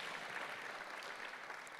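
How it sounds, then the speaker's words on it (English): Brief, faint applause from a crowd at a Thomas Mundy Peterson Day ceremony, a steady even patter of clapping with no talk over it. "One more round of applause for Mayor Kaba."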